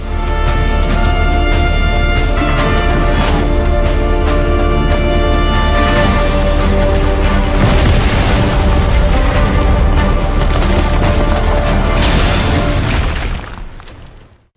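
C4 charges blow apart a statue in Just Cause 3, producing a sustained barrage of loud booming blasts and crumbling debris with a layered rumble, ending in an abrupt fade.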